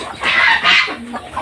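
Chickens cluck near a hatching setup at a village home, a couple of loud, close bursts of clucking with a softer low call between them and no talk.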